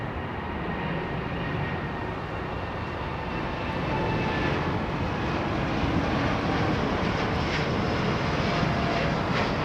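A Dash 8 turboprop airliner at London Heathrow Airport gives off a steady, broad engine roar from a moderate distance. The roar swells slightly partway through and carries on with no voices.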